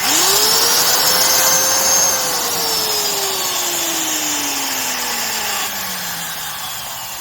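A 1970s–80s Stanley industrial laminate trim router with worn bearings runs steadily and loud, its motor whine winding down slowly in pitch, with a faint rattle under the hum.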